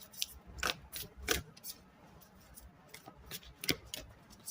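Tarot cards are shuffled by hand in quick riffling bursts, soft and close, with slight rustling between the snaps.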